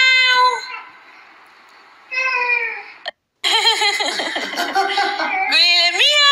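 A young child imitates a cat's meow with repeated high, drawn-out, wavering cries, loud and close, broken by a brief silence and an adult voice.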